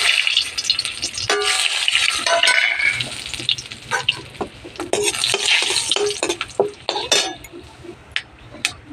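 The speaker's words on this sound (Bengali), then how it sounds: "এবারে তেলের মধ্যে দেবো শুকনো লঙ্কা, দারচিনি আর এই যে তেজপাতা" Dried chili, cinnamon and bay leaf drop into hot oil after fish frying, sizzling close and loud with bursts of spattering, a spatula scraping and stirring, and clinks of metal against the pan.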